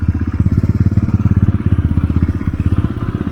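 A motorcycle ridden along a mountain road toward Gurudongmar Lake in North Sikkim, its engine thumping in a fast, steady pulsing rhythm, loud and close throughout with no voices.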